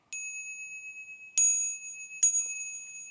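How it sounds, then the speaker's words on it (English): A small ritual bell in a Buddhist ceremony is struck three times at a steady, unhurried pace, each bright, clear ding ringing out alone in a quiet room and decaying slowly before the next strike. "we're going to first ring the bell 3 times and then make 3 half bows"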